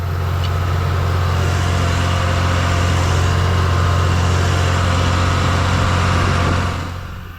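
A Ford TW25 tractor pulls a big Deutz disk through a field, its engine droning loud and steady under heavy load for about seven seconds before easing off slightly at the end.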